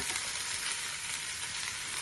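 Onion, tomato, green chilli and ginger-garlic paste fry together in a pan, a dense, even sizzling hiss heard up close with no break.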